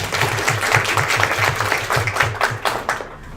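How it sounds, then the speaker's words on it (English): A crowd at a Gold Star Mothers and Vietnam Veterans Association of America presentation applauds steadily, dense clapping filling the room for a few seconds before tapering off toward the end. "Please give them a round of applause."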